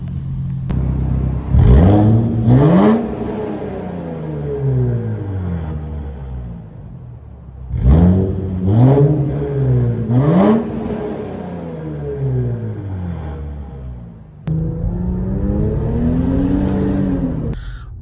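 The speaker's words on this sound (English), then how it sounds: "I can set up right there and do some revs." An Infiniti Q50 Red Sport engine revs hard several times nearby, each rev climbing sharply then falling back to a rumbling idle between bursts.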